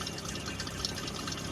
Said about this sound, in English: Filling that tank with water.